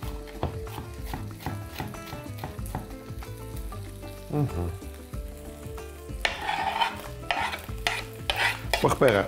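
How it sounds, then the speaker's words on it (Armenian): Strips of red sweet bell pepper sizzle and get stirred in a hot pan while cooking a shrimp salad, a steady frying hiss that swells toward the end beneath continuous background music. "պղպեղը լցնելուց հետո մոտ 30 վայրկյան տապակում ենք"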